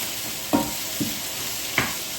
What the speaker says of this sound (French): Dès que le poulet est cuit, je le rajoute et je fais réduire la sauce